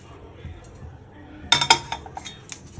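Lightly roasted dry fruits tipped from a kadai onto a plate, heard as a short burst of close, bright clinks and rattles after a quieter stretch, followed by a few scattered taps.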